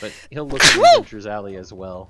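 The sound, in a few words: sneeze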